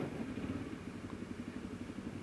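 A Honda motorcycle engine runs at a steady idle, a low rhythmic chugging throb that stays even and moderately close for the whole stretch.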